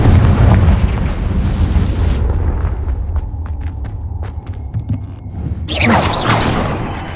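A Confringo blasting curse goes off in Hogwarts Legacy, a heavy booming explosion with rumbling debris that fades, followed by a second sharp burst near the end, loud and close.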